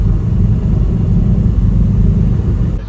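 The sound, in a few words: Mercedes G-Wagon driving past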